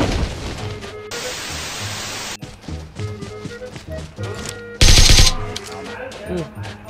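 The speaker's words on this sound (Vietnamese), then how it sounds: "Trên núi nó bắn xuống rồi đấy." Gunfire in PUBG Mobile, with loud bursts and single shots of varying distance, including a sharp, very loud burst near the middle and steady game ambience around it.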